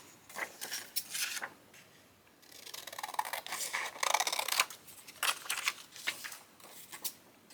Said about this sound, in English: These have long straight lines, so I'm going to use longer scissors.